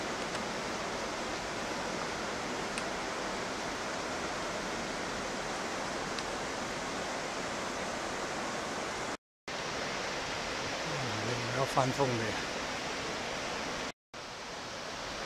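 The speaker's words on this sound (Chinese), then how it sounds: "中国第一瀑布" Waterfall at Jingpo Lake roars as a steady, dense rush of falling water that fills the scene evenly throughout, with a short voice briefly rising over it near the end.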